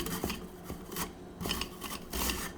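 Food is rubbed against a kitchen grater for a dumpling dish, making close, scraping rasps in quick repeated strokes of about four or five passes.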